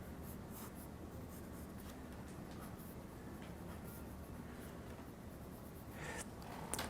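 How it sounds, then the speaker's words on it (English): Pencil drawing on paper as the collar and front closure of a jacket are sketched for a fashion design, a steady soft scratching and rubbing of lead that continues throughout at close range, with a few brighter strokes near the end. "so I'm drawing the collar, then the front closure of the jacket."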